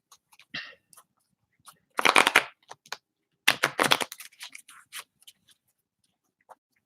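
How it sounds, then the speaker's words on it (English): Short bursts of tarot cards being shuffled, a few crisp riffling flurries with pauses between them, close and fairly quiet, with no talking. "let me go ahead and shuffle these cards."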